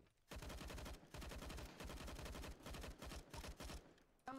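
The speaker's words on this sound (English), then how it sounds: "Oh, shotgun." Gunfire from a video game, reportedly a shotgun, crackles in rapid, repeated bursts of shots in close succession, fairly faint overall with short gaps between volleys.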